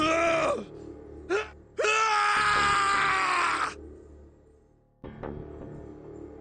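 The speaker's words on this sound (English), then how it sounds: "His scream echoed through the incineration chamber, full of rage and despair." Snake, a character in the game 999: Nine Hours, Nine Persons, Nine Doors, lets out loud, anguished screams and groans in an incineration chamber, one long, sustained cry between shorter bursts, with a ringing echo.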